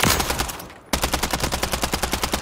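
Rapid automatic gunfire from a Call of Duty video game firing range, loud bursts of shots in a steady repeating rhythm, with a brief drop in the middle before firing resumes.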